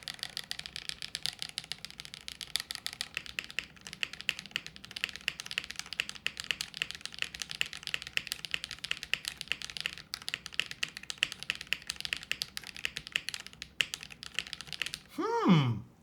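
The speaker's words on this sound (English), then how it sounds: "Here, I'll point it down to the keyboard. I don't think this is quiet by any means." Rapid clattering keystrokes on a Zoom TKL mechanical keyboard with vintage white switches, typed continuously and fairly close for about fifteen seconds, ending in a brief louder swooping sound.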